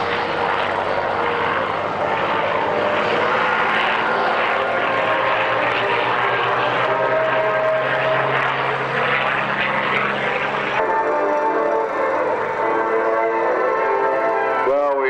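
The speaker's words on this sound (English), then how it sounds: "because here come the P-40s" Curtiss P-40 fighter planes flying at the 1999 North Weald airshow, a loud continuous engine drone with shifting pitch as they pass overhead, with a commentator talking over it.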